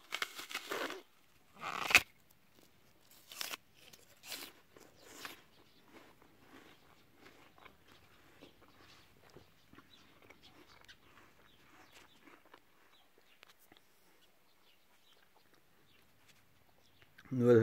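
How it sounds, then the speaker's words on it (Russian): A few sharp crunchy bites into a Pyros summer apple at the start, then quieter chewing continues faintly for a long stretch, close and intimate. "Сейчас давайте попробуем откусить яблоко. Именно как оно хрустит или нет."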